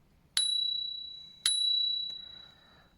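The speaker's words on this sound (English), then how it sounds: "There's a bell here" Bell on an ECOROAD EC6 electric scooter rung twice, each bright ding ringing out and slowly decaying, close and clear against a quiet room.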